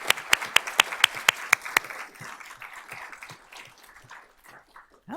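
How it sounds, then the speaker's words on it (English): Applause from the audience at a school board of trustees meeting, starting with several loud, evenly spaced sharp claps up close and then fading into a sparse, softer patter. "let's give them a round of applause"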